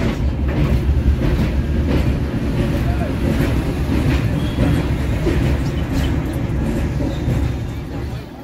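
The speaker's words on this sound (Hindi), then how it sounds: "इस पुल को 1865 में खोला गया था, जो अब 160 साल पुराना हो चुका है, लेकिन अभी भी इस पर से करीब 200 ट्रेनें गुजरती हैं।" A train crosses a 160-year-old railway bridge opened in 1865, giving a steady, loud rumble of wheels and cars with rhythmic clatter throughout, no voices.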